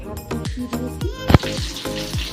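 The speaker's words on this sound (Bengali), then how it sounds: "এখানে আমি মাছ ভাজা বসিয়ে দিচ্ছি" Fish sizzles and spits in hot oil, a steady frying crackle with a brief louder burst partway through.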